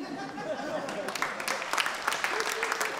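Audience applause at a Georgian league quarter-final show: a steady, moderately distant patter of many clapping hands that lasts throughout, with voices faintly audible beneath it.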